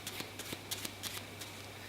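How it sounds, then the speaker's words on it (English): Overhand shuffle of a playing card deck held together with double-sided tape, giving quiet, soft riffling pats in quick uneven bursts, close and faint over low background hum. "I want you to try just doing an overhand shuffle"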